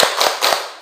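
A group stands and performs the 'tepuk semangat' rhythmic clapping, with several sharp, loud claps in quick bursts spread across a brief moment.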